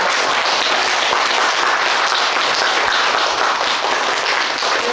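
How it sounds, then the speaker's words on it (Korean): Steady, dense applause from a seated audience fills the room without a break, honoring a lecturer after a talk at a school information session; no voices stand out above the clapping. "먼저 선생님한테 박수 한번 보내드리고 질문 받도록 하겠습니다"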